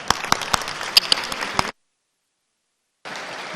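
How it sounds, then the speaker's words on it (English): Applause in the Missouri House of Representatives chamber: individual claps stand out sharply over a dense crowd clapping, cutting to silence partway through before a quieter wash of clapping resumes. "Give a big round of applause, please."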